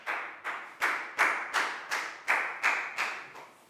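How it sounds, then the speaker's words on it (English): Pupils in a Year 4 science lesson clap together for a classmate in a steady, unison rhythm, about ten sharp group claps in even succession, each fading quickly before the next, close and without talk. "High five and a big round of applause for Chu,"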